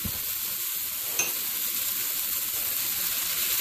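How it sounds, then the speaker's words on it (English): Tomatoes, about three medium ones, tipped into a pan of soft, frying onions for a Punjabi moong dal and potato sabzi, giving a steady close sizzle with a brief clatter as they land. "Here goes tomatoes, around 3 medium-sized tomatoes."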